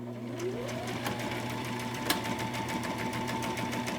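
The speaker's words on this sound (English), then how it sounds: "And you're just gonna start stitching. Make sure and back stitch in the beginning." A sewing machine stitches fabric for a face mask, running in a steady, continuous mechanical whir with a fast, even needle rhythm, close-up with no talking.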